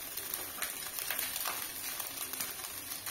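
Noodles fry in a hot pan with a faint, steady sizzle and crackle, with soft stirring scrapes mixed in, quiet and close, without talk.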